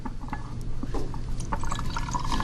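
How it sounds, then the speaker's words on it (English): Potassium iodide and sodium carbonate solutions poured together in a chemistry demonstration of a double replacement reaction, giving a steady, close liquid pour with light glassy clinks and trickling throughout. "So if I pour one into the other, again, watch carefully."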